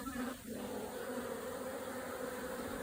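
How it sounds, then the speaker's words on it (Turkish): Honeybees of a Belfast hybrid strain hum steadily around a black hive, a close, continuous buzz without pause and no talking over it. "Sakin bir arı arkadaşlar. Arımızın cinsi Belfax melezi gibi duruyor."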